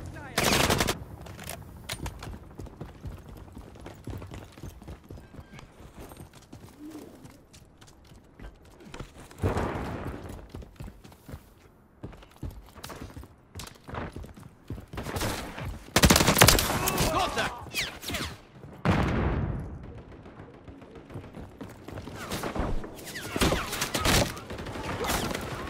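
Video game deathmatch gunfire: bursts of automatic fire and single shots come in clusters, loud at times and fainter at others, with brief game voice lines between them.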